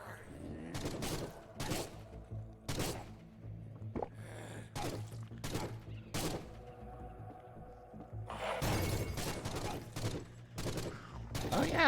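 Gunfire bursts in the dark shooter Forgive Me Father, sharp loud shots landing in irregular clusters over a rumbling game background, with a denser volley near the end.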